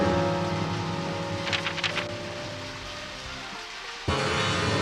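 Rain in the video game Deadly Premonition, a steady dense hiss layered over low droning game ambience and tones, with a brief clicking flutter midway and a sudden cut to a brighter rain texture near the end.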